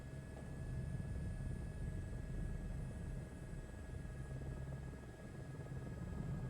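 An Airbus H125 helicopter engine in Microsoft Flight Simulator 2024 runs as a steady, loud turbine whine and rotor rumble with a constant tone, alone and unchanging throughout.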